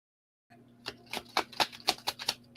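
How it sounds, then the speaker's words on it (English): Tarot cards shuffled in a rapid riffle of about eight crisp, papery bursts, close and clear, with a faint steady hum underneath and no talk. "I'm going to shuffle one more time."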